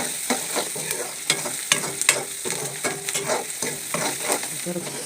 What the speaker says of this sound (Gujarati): ગોલ્ડન બ્રાઉન ડુંગળી થઈ જાય ત્યાં સુધી આપણે એને શેકશું